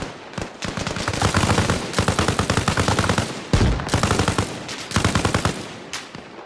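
Loud bursts of automatic gunfire in the Arma Reforger war game, rapid machine-gun rattles in several volleys with brief gaps between them, close and sharp, with no talking.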